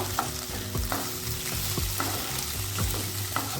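Mashed potato and chicken filling for chicken patties fries in a pan over low flame, a steady close sizzle broken by repeated scraping stirs of a spatula about every second.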